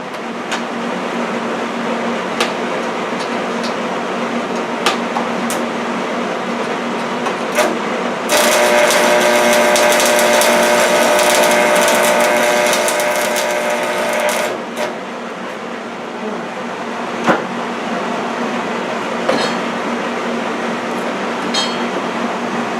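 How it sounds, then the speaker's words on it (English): A stick welder welds a motorcycle cooler rack, with about six seconds of loud, dense arc crackle and sizzle that starts and stops abruptly amid a steady shop hum and scattered ticks. "It's been a long time since I used a stick welder."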